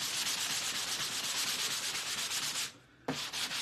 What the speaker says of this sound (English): I'm just going to sand a little on the place where the words are